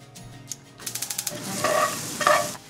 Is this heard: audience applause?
no